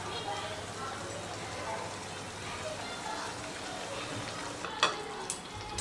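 Grated paneer, about 150 grams, stirred and fried in a pan for Amritsari paneer bhurji, giving a steady sizzle with scraping and a few sharper clinks of the spoon near the end.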